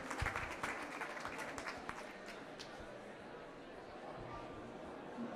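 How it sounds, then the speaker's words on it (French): Audience applause after a conference presentation before a question-and-answer session, a brief burst of clapping that starts fairly strong and fades quickly into quieter room murmur, heard from a distance. "Vous pouvez applaudir."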